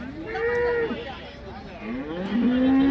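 Jersey cattle mooing at a livestock market in long, drawn-out lowing calls, one early and another rising near the end, close by over steady outdoor background noise.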